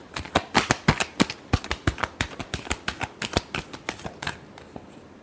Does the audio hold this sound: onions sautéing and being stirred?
no